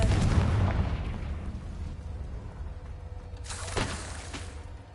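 A Confringo fire spell goes off in a Harry Potter video game: a loud rumbling burst at the start fades into a low roar, then a second sharp blast with a crackling whoosh follows near the end.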